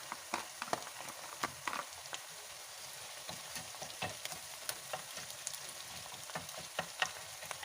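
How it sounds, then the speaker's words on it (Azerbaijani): Onion and meat frying in a pan for Uzbek plov crackle and spit steadily, with frequent sharp pops scattered throughout, close and fairly quiet, without talk. "Gördüyünüz kimi ətimiz və soğanımız da artıq qovruldu."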